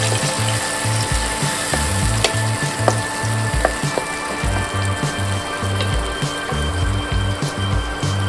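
Ground spice paste for Goan mackerel curry sizzles steadily in hot oil in a pan, a continuous loud frying hiss with a repeating low mechanical whir and occasional clicks underneath, no voices.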